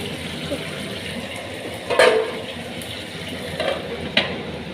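Pieces of bhola fish fry in hot oil in a pan, giving a steady close sizzle with a few brief louder spits and crackles; no one speaks.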